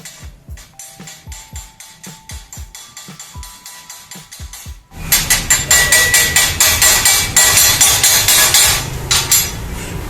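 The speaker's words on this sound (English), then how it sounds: "So he's scraping all the oxide layer," Repeated rhythmic scraping strokes against a metal plate remove an oxide layer, first sharp separate rasps, then a louder, denser run of fast scraping for the rest of the stretch, with no talking.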